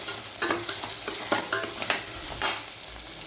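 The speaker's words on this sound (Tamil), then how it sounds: "வெங்காயம் நல்லா ஃப்ரை ஆகிடுச்சு" Onions sautéing in a pan, stirred with a utensil: a run of scraping strokes over a steady, moderately loud sizzle, with no voices.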